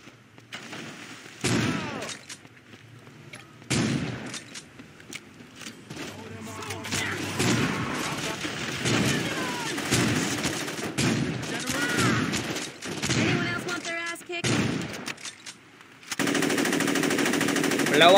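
Video game gunfire in Saints Row 2, with loud, rapid automatic bursts and repeated shots throughout, mixed with game effects and someone talking over the action.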